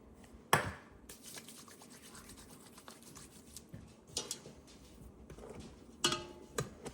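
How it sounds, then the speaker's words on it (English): A dough scraper working sticky bread dough for soft homemade rolls, giving quiet close-up scrapes and soft scratchy strokes, with a few sharper clicks of the scraper against the bowl. "So I'm gonna use my scraper in here before I reach in with my hands"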